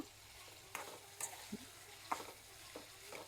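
Cucumber chutney with tamarind cooks over high heat in a pan, a faint soft sizzle with occasional light stirring scrapes and clicks, quiet and close with no talk.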